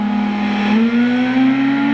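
A race car in Gran Turismo 6 leaves the pits at Brands Hatch Indy circuit with a loud, steady engine drone whose pitch climbs gradually as it accelerates.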